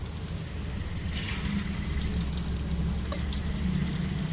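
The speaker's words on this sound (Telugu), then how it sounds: "వీటిని ఫ్రై చేసుకోవాలి" Keema mutti (minced meat balls) frying in a pan of oil with turmeric and curry leaves, a steady close sizzle and crackle with soft popping throughout, no talk.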